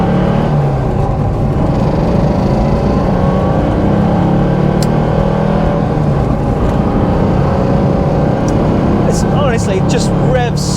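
A Porsche 912 car engine revs and accelerates steadily throughout, a loud continuous drone with a voice speaking over it.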